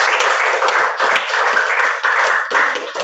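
A crowd claps hands in dense, continuous applause, loud and close, sustained throughout without voices breaking through.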